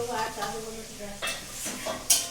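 Ghugni, a chickpea curry, is stirred in a sizzling pan with a soft frying hiss and scraping spatula strokes, close up. A few clinks of the utensil against the pan come near the end.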